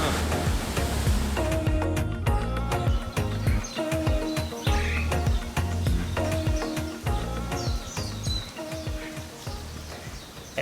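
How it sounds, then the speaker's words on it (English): Ocean waves crash on the shore at Shipwreck Beach, Kauai, a loud continuous roar of surf with rhythmic thumping and a few bird calls over the top, close and full. "And I do like me some crashing waves."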